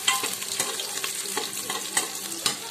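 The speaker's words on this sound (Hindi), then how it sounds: "अब देखिए हमारा प्याज थोड़ा बहुत पिंक हो चुका है" Onions frying in a pan for a vegetable biryani, a steady close crackle with soft irregular clinks and scrapes of a spoon stirring, no voices.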